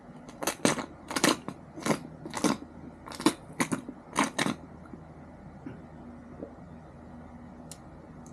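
Crunchy snack being bitten and chewed close to the microphone during a taste test, with a run of sharp, crackling crunches in bursts over the first few seconds, then quieter faint room noise.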